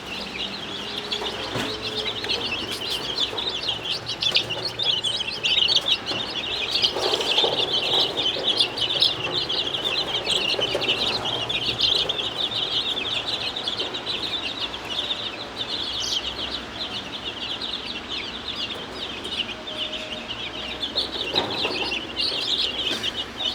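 Steady high-pitched peeping of many young chicks, including an all-black chick, continuous and fairly close, with occasional louder cheeps over a constant chorus.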